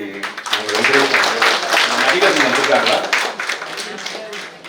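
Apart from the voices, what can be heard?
audience clapping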